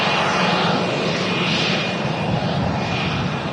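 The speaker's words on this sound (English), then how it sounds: "That little Embraer." Embraer jet at Manchester Airport, its engines roaring steadily and loud at close range, a broad continuous rumble with a thin high whine running through it.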